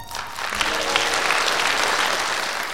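Loud, dense applause from a concert audience at a charity show, steady and sustained throughout with no voices over it.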